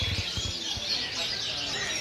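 Many canaries chirp and trill together in a busy bird market, with a dense, fairly faint wash of high twittering and a few low thumps up close.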